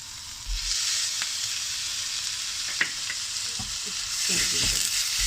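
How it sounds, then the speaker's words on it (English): Chopped onion sizzling and frying steadily in a pan with ginger garlic paste, a loud continuous hiss broken by a few clinks and stirring knocks of a utensil, close up with no speech. "Now I'm going to add in the ginger garlic paste."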